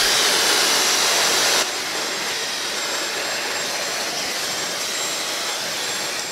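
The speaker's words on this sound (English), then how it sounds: "I'll probably blast it now with the hairdryer. My good old Dyson, I have it on 3," Dyson hairdryer blowing on its hottest setting, a loud steady airy roar that drops slightly in level after a moment and then holds constant.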